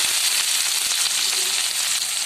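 Onions hitting hot oil already crackling with mustard seeds, fenugreek and cumin for a drumstick kara kuzhambu, a loud dense hiss of frying that carries on steadily without speech.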